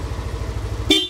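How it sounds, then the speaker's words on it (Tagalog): A motorcycle idles with a steady low rumble, then its horn gives one short, loud, bright honk near the end, which trails off into a brief ringing tail. "Pag bumusina tayo."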